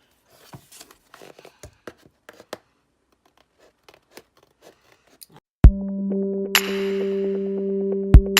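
A series of quick, crisp snips as scissors cut through paper, irregularly spaced, followed by a loud steady humming tone in the background.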